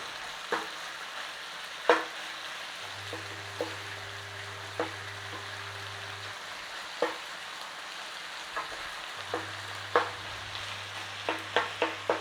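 Chicken pieces stir-frying in a hot pan for a Taiwanese three-cup chicken with basil, a steady sizzle broken by repeated scrapes and knocks of a utensil turning the meat, close and fairly quiet, with no talking.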